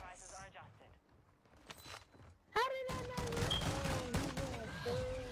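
Rapid bursts of gunfire in a video game, scattered shots early then dense overlapping fire, loud and close, with a voice talking over it.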